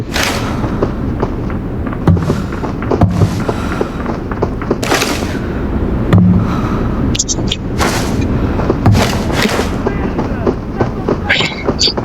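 Gunfire in the shooter game Arena Breakout, loud repeated sharp shots and thuds over constant game noise, with players talking throughout.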